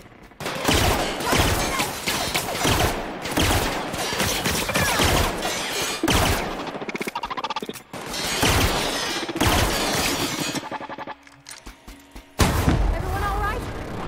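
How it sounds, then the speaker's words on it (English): Shotgun blasts in the sci-fi role-playing game The Outer Worlds, heavy repeated booms in a dense, loud firefight with other gunfire and impacts, while people talk over the action. "I just shotgunned his ass."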